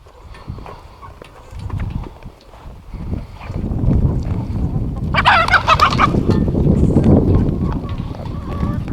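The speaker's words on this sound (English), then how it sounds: "I got a little young rooster here" Hens and a young rooster cluck and squawk in a goat and poultry barnyard, close and busy, with a burst of louder squawking midway over low rumbling and occasional voices.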